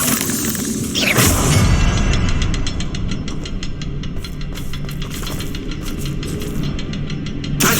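Blasting spell cast in Hogwarts Legacy, a sharp burst near the start followed by a dense roaring rumble and a run of rapid crackling ticks, set against continuous in-game ambience and low booming.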